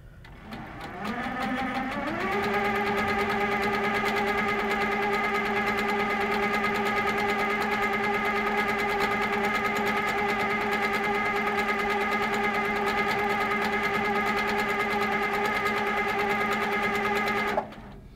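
A sewing machine stitches a small stipple quilting design with its speed controller turned down from 45 to 35. It spins up to a loud, steady whirring hum that runs without pause for about fifteen seconds before cutting off, with no talking.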